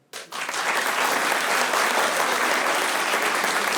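A full audience bursts into sustained applause after a brief quiet moment, a dense, loud wash of many hands clapping steadily to the end without letting up.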